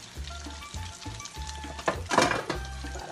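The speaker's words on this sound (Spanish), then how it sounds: "Bolitas de mozzarella. Están friendo." Mozzarella cheese balls frying in hot oil, a steady close sizzle with a brief louder surge of bubbling partway through, no voices.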